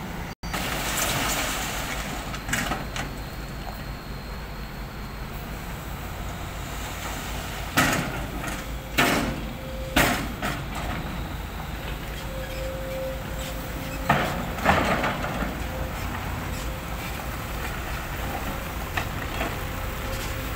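A six-wheel truck hauls rock at the Lam Ta Khong reservoir near Hua Fai, Khaen Dong, Buriram, giving a steady diesel rumble broken by sharp knocks and clanks at irregular intervals, with no talking.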